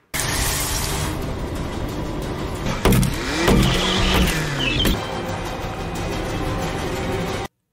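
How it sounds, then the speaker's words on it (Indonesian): A car drives along toward a cable car station with a steady engine hum and road noise, broken by a few mechanical clunks and whirs midway. "Sebastian menggunakan mobil untuk membawa mereka berdua pergi menuju kereta gantung."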